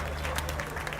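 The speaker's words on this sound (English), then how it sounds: "If you are clapping, please clap very well." A crowd claps at a funeral and burial ceremony, a brief burst of dense, even applause with a low steady hum underneath.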